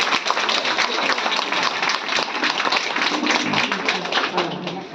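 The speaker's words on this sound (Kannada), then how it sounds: "ಒಮ್ಮೆ ಜೋರಾದ ಚಪ್ಪಾಳೆ ನಮ್ಮೆಲ್ಲರಿಗೂ" A Women's Day event audience bursts into loud, sustained clapping, a dense crackle of many hands continuing steadily for several seconds with a voice faintly underneath.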